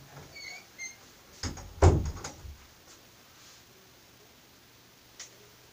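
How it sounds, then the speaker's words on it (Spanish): A door is pushed shut with a cluster of knocks and a firm central thud at close range, followed by a few faint clicks and quiet. "Y cierra la puerta."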